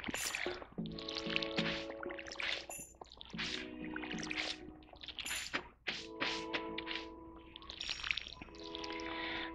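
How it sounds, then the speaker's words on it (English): Beans being watered in the video game Stardew Valley, a run of splashy pouring and dripping sounds over steady tonal game music, with no talking. "And let's water the beans"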